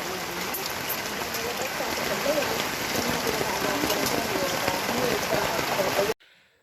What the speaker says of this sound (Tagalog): Sa ulan dito ayo, oh. oh. lakas ng tubig oh.